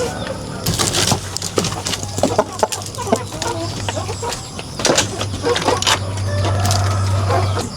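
Chickens in breeding coops cluck and call while being fed, with wing flaps and scattered pecking sounds up close, and a voice talks over them.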